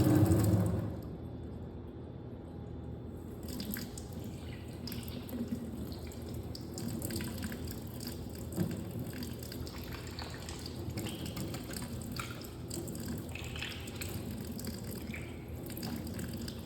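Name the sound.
kitchen faucet water running to rinse aerator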